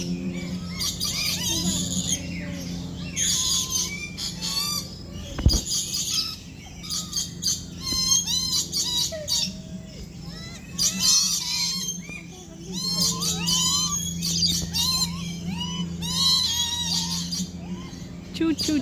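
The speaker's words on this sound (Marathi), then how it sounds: "तर इथे पोपटाच्या वेगवेगळ्या जाती आहेत" Various parrot species at Singapore's Bird Paradise aviary chirp and squawk in a busy, overlapping chorus, with one sharp thump partway through, against steady low background hum and occasional voices.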